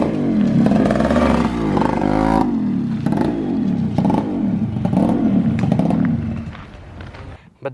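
A ported Suzuki Shaolin two-stroke motorcycle engine revs up and down repeatedly at close range, loud rasping bursts with brief dips that struggle rather than settling to idle, before the sound cuts off near the end.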